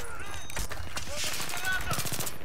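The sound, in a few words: gunfire in the video game Battlefield 3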